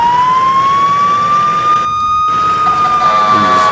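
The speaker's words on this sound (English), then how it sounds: "This one we got the manual siren here" A manual fire engine siren in the video game EmergeNYC wails close and loud, a single sustained rising tone with a brief dropout partway through, over steady engine and traffic noise.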